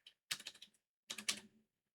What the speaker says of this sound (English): So I'm just going to type in my password for my network.